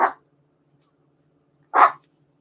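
Two sharp, close dog barks with a long pause between them, each short and loud against a quiet room.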